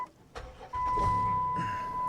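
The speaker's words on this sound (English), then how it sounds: "when I turn the car back on" A car, being checked with a Foxwell NT201 code scanner, is switched back on: a few clicks and a short crank give way to a steady engine idle with a constant electronic tone running over it.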